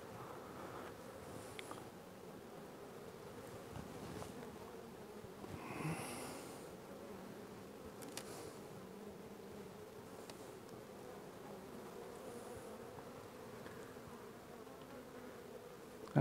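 Honey bees hum in a steady, calm drone from an opened hive during a colony inspection, close and moderately quiet, with faint rustles and no talking.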